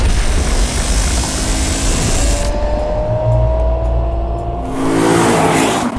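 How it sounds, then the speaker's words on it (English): Lexus IS500 with a naturally aspirated V8, loud close engine roar under hard acceleration with a rising pitch, a brief lift where the sound thins, then revving back up strongly. "with this absolutely amazing noise that's coming out of this car"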